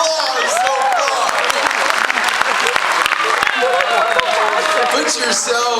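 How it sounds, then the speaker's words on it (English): A stage hypnosis show audience gives a sustained, loud round of applause for the volunteers, a dense continuous clatter of hands with cheering and scattered voices mixed in throughout. "Give them a big round of applause so far."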